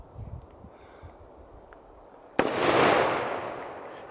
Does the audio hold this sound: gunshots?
yes